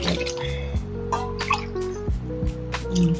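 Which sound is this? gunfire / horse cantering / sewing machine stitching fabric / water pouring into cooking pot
water pouring into cooking pot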